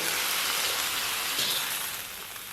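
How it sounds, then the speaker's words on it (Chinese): Pork intestines and vegetables stir-fry in a hot wok with a splash of soy sauce, giving a loud, dense, steady sizzle that crackles close up and eases slightly toward the end. "炒香以后给它烹点生抽"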